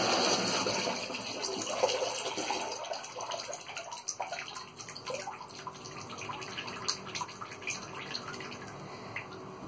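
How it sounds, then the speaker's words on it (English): Steady fizzing and crackling of a bath bomb in water, with tiny bubbles popping continuously and close by, fading slightly over time. "You can hear it bubbling."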